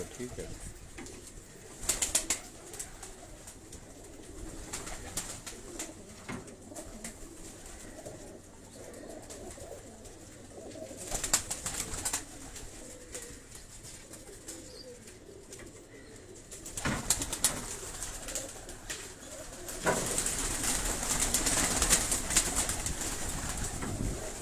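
Pigeons at a breeder's loft in Karachi coo softly amid rustling and occasional wing flaps, with scattered bursts of noise and a busier flurry toward the end.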